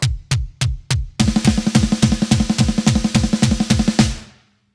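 A drum kit plays a steady bass drum pattern: four sparse kicks, then a fast, even run of kicks with cymbal wash over them, ending with a brief decay.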